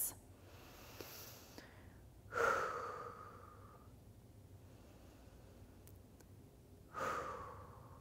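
Two slow, deep breaths during a seated neck stretch in a chair exercise routine, each a soft, drawn-out exhale several seconds apart, close and alone against quiet room hiss.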